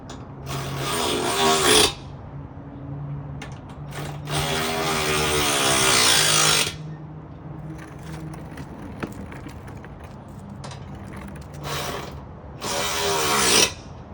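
A ratchet wrench tightens bolts on a running board mounted to a 2023 Toyota Tacoma body, giving several bursts of rapid, close clicking with quieter pauses of handling between them.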